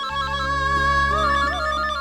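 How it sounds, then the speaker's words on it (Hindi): A mobile phone ringtone plays a bright electronic melody, loud and steady, with no voices over it. "मोरे साहब का ही फोन है"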